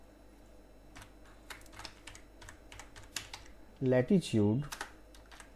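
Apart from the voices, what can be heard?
typing code on a computer keyboard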